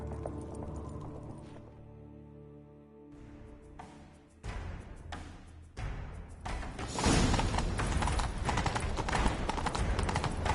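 A horse's hooves clatter in a quick galloping rhythm in the video game The Witcher 3, building louder amid whooshes and thumps after a quieter musical opening.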